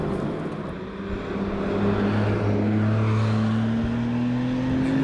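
A Singer-restored Porsche 911 Turbo Study drives steadily, its engine droning with a gradually rising tone that swells over a few seconds amid road and wind noise, no one speaking.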